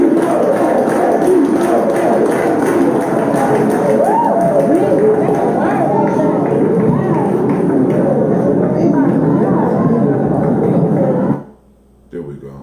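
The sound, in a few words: hyped crowd in a played video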